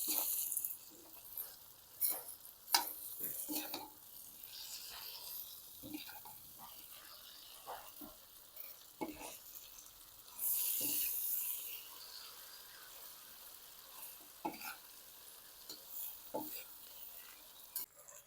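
A spoon scrapes and stirs oil-fried vermicelli in a pan, making scattered soft clinks and light sizzling under quiet background noise, with a brief louder hiss partway through.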